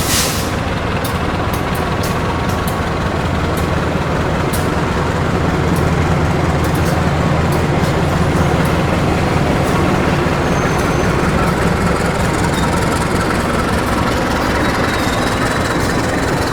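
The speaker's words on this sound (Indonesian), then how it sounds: "kereta api Logawa diberangkatkan dari stasiun Purwokerto tepat waktu menuju tujuan akhir stasiun Ketapang" The Logawa passenger train pulls out of Purwokerto station, bound for Ketapang, Banyuwangi, with a loud, continuous engine drone and rolling rumble close by, steady throughout, punctuated by faint clicks and squeaks.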